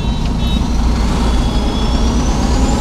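A road traffic jam of trucks, cars, buses and autos heading from Kolkata toward the Maha Kumbh: a constant low rumble of idling and creeping engines close by, with a faint high whine rising steadily in the background.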